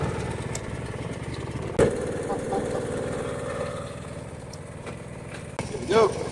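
A Craftsman T110 17-horsepower gas riding lawn mower engine runs steadily at idle, a continuous mid-pitched drone with a few clicks and knocks, heard beneath people talking.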